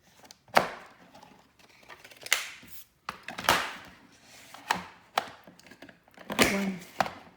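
A Creative Memories Border Maker punching paper, sharp crisp clunks at uneven intervals with brief rustling between, about seven distinct punches, close and clear with no talking.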